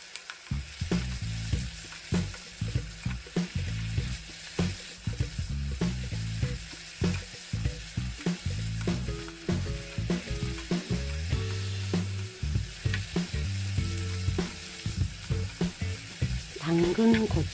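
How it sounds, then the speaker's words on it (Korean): Burdock root stir-frying in a pan with oligosaccharide syrup, a steady close sizzle broken by repeated scraping and stirring clatter from a utensil throughout. "수분이 증발되면 올리고당을 넣고"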